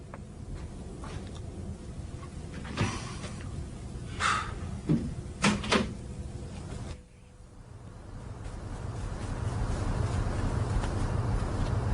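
A door closes with a few sharp knocks and thuds before settling into a quieter room hum, heard close with no talking.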